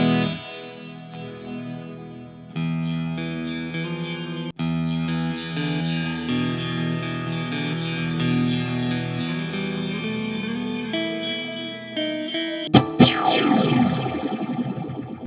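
An electric guitar plays sustained chords through a Marshall Valvestate 8100 amplifier with a Terra Echo in its effects loop, giving a steady, echoing, effected tone, ending in a brief burst of louder strums.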